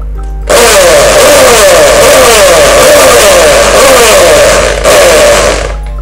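A Bosch three-function 220V electric drill starts in hammer-drill mode with a loud, close, buzzing, rattling motor roar that holds steady, dips briefly near the end, then resumes.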